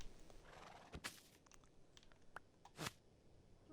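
A video game horse gives a few scattered sounds: short bursts and a neigh-like cry between soft hoof clops and crunches, fairly quiet with no talking.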